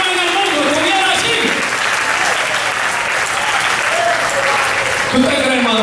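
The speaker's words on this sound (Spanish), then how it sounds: "Pero un aplauso al Señor." A church congregation applauds steadily and loudly for several seconds, with a voice briefly rising over the clapping.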